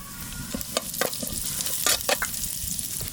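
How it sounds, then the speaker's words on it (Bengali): Whole cumin seeds sizzle in hot ghee in a saucepan, a steady close crackling hiss broken by brief louder pops and stirring scrapes. "একটু ঘি দিয়ে দেবো, কটা গোটা জিরে দিয়ে দেবো এর মধ্যে"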